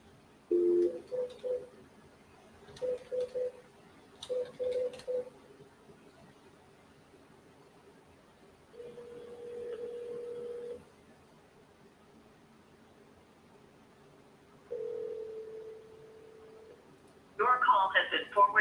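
A phone call rings through in repeated double-burst ringback tones, then two longer steady tones follow and a voice starts at the end. Every sound is heard through the phone line and stays fairly quiet.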